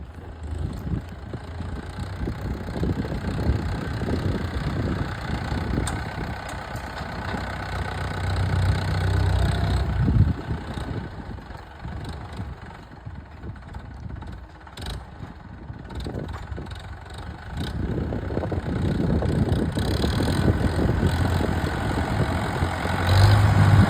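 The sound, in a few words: large tractor engine idling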